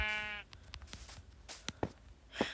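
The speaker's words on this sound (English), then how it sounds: "Ooh, sheep." Sheep bleating in the Minecraft video game: a clear harmonic bleat opens, followed by several short clicks and game noises with a brief scrape near the end, moderately loud with no talking.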